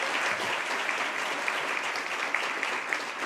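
An audience at a talk on women's wealth in Central Ohio applauds, a steady wash of many hands clapping at moderate volume throughout.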